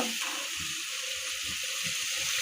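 Water pours steadily into a cooking pot of spiced meat on the stove, a continuous splashing gush lasting a couple of seconds, close and fairly loud.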